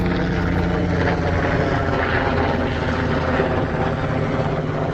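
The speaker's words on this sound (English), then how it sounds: "There goes a military helicopter." A military helicopter flies over a pumpkin patch farm, its steady rotor and engine roar loud and continuous throughout, with no voices heard.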